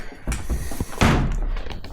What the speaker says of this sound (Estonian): Uks kinni.